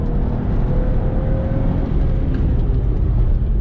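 A BMW 1M on a racetrack gives a continuous loud engine drone as power builds, heard from inside the car and steady throughout with no voices.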